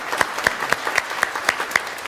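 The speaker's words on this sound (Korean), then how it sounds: "우리 박수로 환영하도록 하겠습니다" A church congregation welcoming newcomers at a Sunday worship service claps in steady, even beats, roughly four per second, loud and close throughout the short burst.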